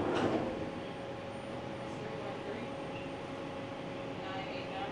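A Detroit People Mover train rolls into a station with a steady, close rumble and rail hum, heard from inside the car with no talking over it.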